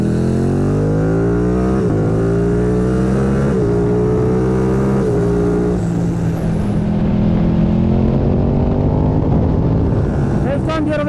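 A Ducati Panigale V2 motorcycle engine revs loud and close, its pitch climbing in repeated surges and dropping back between them, with a steady growl running underneath throughout.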